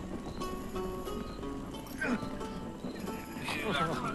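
Horse hooves clip-clop in the video game Rustler, joined by a whinnying neigh, under game music and someone talking.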